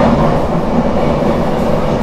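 Steady rumble inside a moving train in France, a low, continuous rolling drone of wheels and carriage noise, loud and even throughout with no speech.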